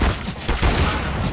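Bursts of rapid gunfire in a shooter video game, a dense, loud fusillade of overlapping shots that continues steadily throughout.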